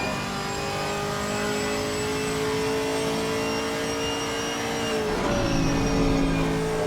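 Race car in a Gran Turismo 4 championship at Silverstone pulling hard at full throttle in second gear, a steady rising engine drone that drops briefly at an upshift near the end, then climbs again, loud and close with no talk.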